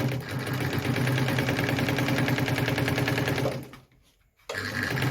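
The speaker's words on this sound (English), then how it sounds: "I'm actually using 4 layers of denim, so I'll just reduce the stitch length a bit and actually sew with it again." A Phoenix E10 sewing machine stitches through four layers of denim at a steady, loud, rapid mechanical chatter, stopping briefly near the end before starting up again, with a short spoken phrase.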